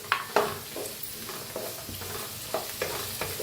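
Green chillies and finely chopped tomatoes roasting in a pan, giving a steady low sizzle broken by repeated scraping stirs of a spoon against the metal, close and moderately loud with no voices.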